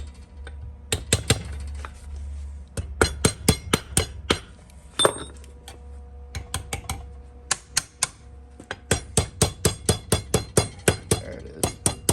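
Rapid metallic taps of a hammer striking a chisel against metal before welding, sharp clinking hits in irregular bursts, close and bright, with quiet pauses between runs.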